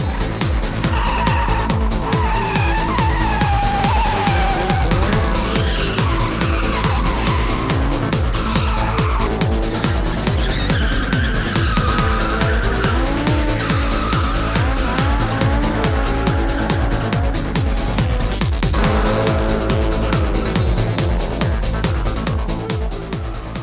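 About thirty cars drift on Osaka streets at night with long, wailing tire squeals rising and falling over roaring engines, continuous and loud throughout.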